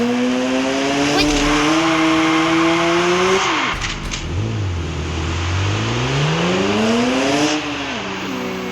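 In the game Car Parking, a car engine climbs through loud revving sweeps, cuts off abruptly, then winds back up from a low idle, with tire squeal and a faint voice under it.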